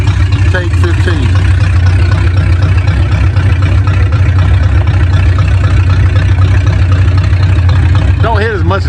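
A 1968 Mustang engine idles loud and close with a steady low throb, while people talk over it throughout.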